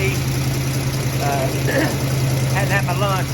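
A car engine with larger carburetor jets fitted and an exhaust leak idles steadily with a low, constant hum, while a person talks close by over the running motor.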